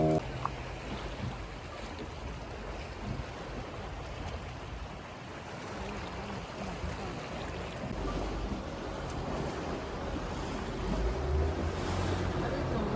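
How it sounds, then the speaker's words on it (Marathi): A motorboat cruises on the open ocean on autopilot off the Konkan coast, giving a steady, loud wash of engine hum, water rush and wind buffeting the microphone throughout, with no clear speech. "बोट आमची ऑटो पायलट मोडवर आहे. आपोआप त्यांनी टाकून दिले. चालतीये फक्त."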